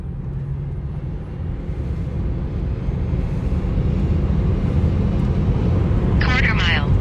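Lucid Air electric sedan accelerating hard in a launch control run, a steady loud rushing roar of road and wind noise building over several seconds, with someone talking over it.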